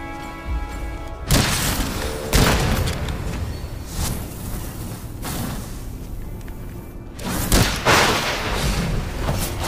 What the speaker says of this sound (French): Vous voyez la bombe que je lâche derrière qui fait un nuage de gaz, qui les empoisonne